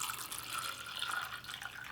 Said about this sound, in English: Pour my coffee.